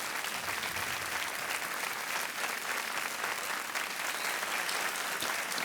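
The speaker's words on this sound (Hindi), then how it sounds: "तालियां बजती रहनी चाहिए।" Studio audience applause on the Kaun Banega Crorepati quiz show, a dense, loud, sustained roar of many hands clapping continuously with no talking over it.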